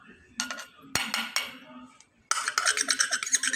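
A spoon stirs cardamom-ground icing sugar into egg in a bowl for achu murukku batter, with short bursts of scraping and clinking against the bowl's sides and then a faster, continuous rhythmic mixing.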